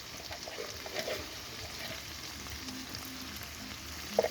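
Chicken pieces frying in a pan with salt and turmeric, a steady low sizzle throughout with faint scraping, ending in a short sharper clink near the close.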